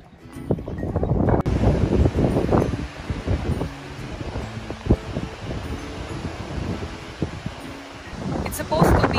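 Cold wind blows outdoors in gusts and rumbles across the microphone, with a steady rustle underneath. A person talks over it for much of the time.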